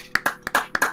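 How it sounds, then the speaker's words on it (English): A small group claps for itself in a casual studio setting: about four sharp hand claps in quick, uneven succession, close and fairly quiet, with no talking. "we need to give ourselves a round of applause for this"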